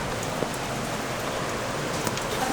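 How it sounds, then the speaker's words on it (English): Rain falls steadily in Lauterbrunnen, Switzerland, a dense even hiss of drops with occasional sharper patters, continuous and fairly close, with no voices. "Hey, it's raining here."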